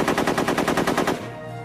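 Thompson submachine gun firing a rapid burst of about a dozen evenly spaced shots at roughly 800 rounds per minute, loud and close, then stopping abruptly into a low ringing tail.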